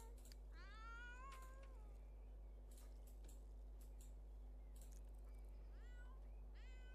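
A cat meows several times, rising and falling wails spaced across the clip, quiet and fairly close over a steady low hum.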